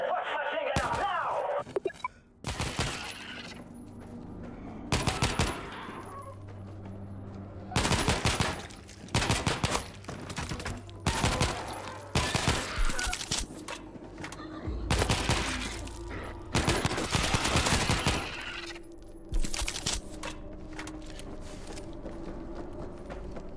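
Bursts of automatic machine gun fire in the World War Z zombie shooter game, Moscow level, come in repeated loud volleys of several seconds each amid game sounds, with voices talking between bursts.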